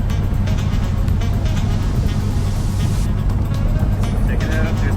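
Dodge Viper driving on a road, its steady low engine drone and road rumble continuous throughout, close and fairly loud, with a person talking over it.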